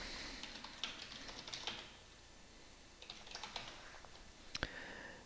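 Keys clicking on a computer keyboard as a profile name is typed into energy-monitoring software, quiet and close, in short irregular bursts with pauses between them.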